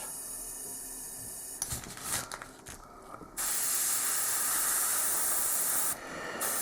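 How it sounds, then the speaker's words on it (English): Spray paint hisses onto an Imperial Guard Chimera model tank in a steady airbrush-like stream: a short burst, some sputtering, then a louder continuous spray for several seconds before it eases off. "Spray until the next color shows."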